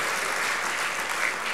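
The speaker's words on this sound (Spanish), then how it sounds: "Yo creo que un aplauso mucho más fuerte" Applause fills a session-opening hall after a management report is read: steady, dense clapping from a large audience, continuous and fairly loud with no pauses.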